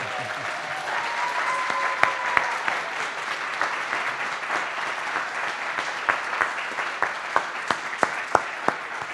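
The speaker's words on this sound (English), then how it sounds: "And people will clap for you." An audience at a live poetry recitation event applauds steadily for about nine seconds, a dense wash of clapping with a few sharper, closer claps standing out near the end.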